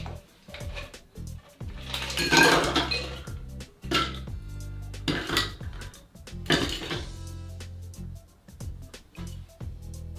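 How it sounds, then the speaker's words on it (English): Ice rattles and clinks into a glass for a mojito cocktail in several loud, close bursts, with smaller clicks and knocks in between. "What you want to do next is now put in the ice."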